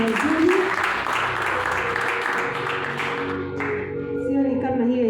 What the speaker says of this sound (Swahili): Tumpigie mchungaji wetu makofi mazuri.